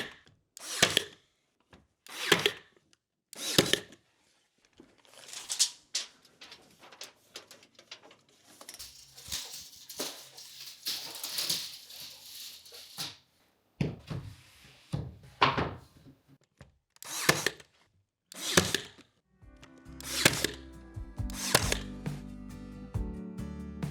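Tools at work installing wooden trim pieces in a bedroom, a series of separate sharp thunks and short bursts spaced irregularly, with some brief whirring and clattering between them in a quiet room.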